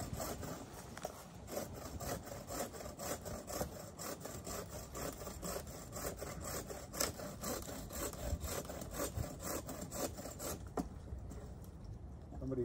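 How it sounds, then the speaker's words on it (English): A handsaw rasps steadily through tangled cedar vines and crowns, a close, continuous rhythmic sawing and rubbing of wood that runs almost the whole time before easing off near the end. "you're better off doing it with a handsaw, because these crowns get caught up."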